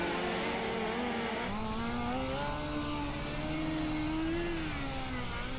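A race car engine droning at a moderate distance as the driver works the throttle while the car slides around the track, its pitch rising and falling in waves without any talk.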